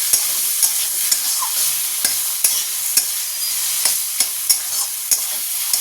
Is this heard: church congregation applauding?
no